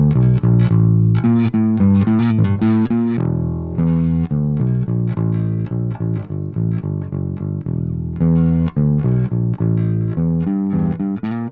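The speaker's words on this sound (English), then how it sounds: "And now let's just blend in some clean." High-gain distorted guitar through the Nembrini BlackIce Beta Gamma plugin, with some clean signal blended in, plays loud sustained chords and riffing phrases continuously, with no voices.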